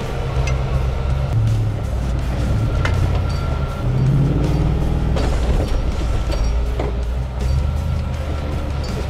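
A 1979 Ford F250 pickup with a Coyote engine swap and custom 4x4 chassis driving over bumpy ground, loud steady engine and road rumble inside the cab with clunks and rattles as the truck hits the bumps.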